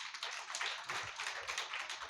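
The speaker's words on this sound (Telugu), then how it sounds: "చప్పట్లు కొట్టండి మంచిగా" A church congregation claps together during a service, a continuous, fairly faint patter of many hands sounding from across the room.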